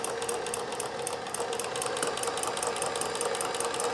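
Sewing machine running steadily while stitching a multi-point zigzag on synthetic fabric with a drawn-thread attachment, a fast even mechanical chatter of needle strokes that carries continuously at close range with no talking.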